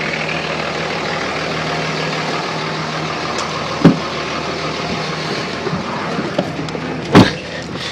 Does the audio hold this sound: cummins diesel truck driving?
yes